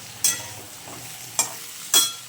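Potato and eggplant frying in a pan over a soft sizzle, with three sharp spoon scrapes or clacks spaced apart, close and clear, no speech.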